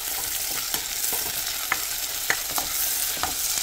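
Chicken frying in a pan with garlic and red onion, giving a steady close sizzle with scattered scraping clicks from stirring, with no talk.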